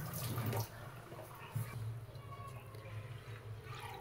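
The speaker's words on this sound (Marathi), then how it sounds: "आता ह्याच्यातलं मी आता सगळं स्वच्छ धुवून पाणी काढून घेते।" Water splashing and pouring as soaked ration rice is washed and drained by hand in a kitchen, a faint, uneven swishing and trickling with a louder slosh or two.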